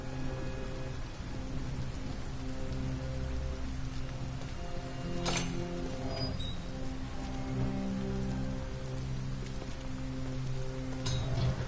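Rain falls steadily in Detroit: Become Human, a constant even patter across the whole stretch with a couple of brief sharper crackles, and no voices.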